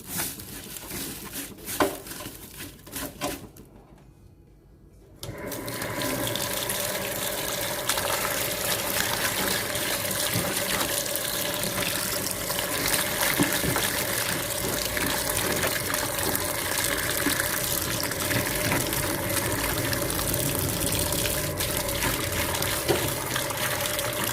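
Water runs continuously from a tap while catfish are washed with salt, a steady close gushing splash after a few seconds of quieter handling noises and a brief lull.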